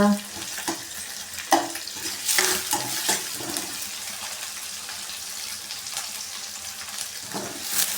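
In a pan, ingredients fry for a tomato sambar made without lentils, giving a mild sizzle with clinks and scrapes of stirring. A few louder knocks and a watery splash stand out, and there is no talk.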